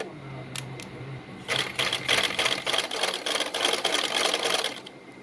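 Sewing machine stitching a V-cut neckline on a garment, a fast steady run of needle clatter that starts after a brief pause and continues loudly, close up, with no talk.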